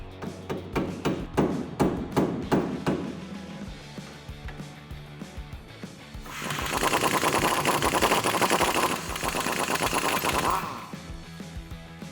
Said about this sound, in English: I'm gonna use a dead blow, give it a couple taps